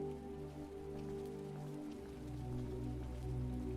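Rain falls in Skyrim as a soft, steady patter on surfaces, quiet and continuous, over a low sustained tonal hum.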